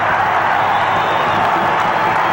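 A sellout crowd of 11,742 in a college basketball arena at Pullman roars continuously, a dense, loud wash of cheering and applause with no break.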